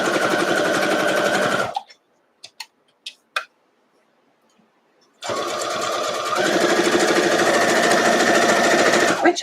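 Sewing machine stitching Y seams in fast, steady runs, loud and close, with a pause of near silence broken by a few light clicks before the stitching resumes.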